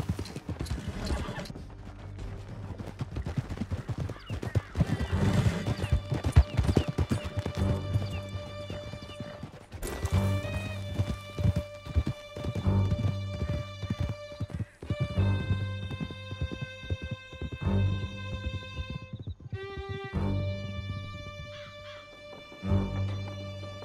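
Horses gallop in Red Dead Redemption 2 during a canyon escape, with rapid, steady hoofbeats, close and loud, plus occasional whinnies and a music score running underneath throughout.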